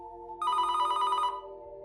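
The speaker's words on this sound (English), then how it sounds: "his phone rang, making him jump" A mobile phone rings once in a narrated horror story, a bright electronic trilling tone lasting under a second over a steady low musical drone.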